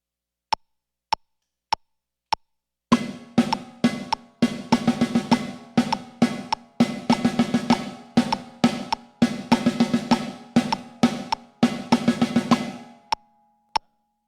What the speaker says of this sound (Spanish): Voy a grabar el redoblante.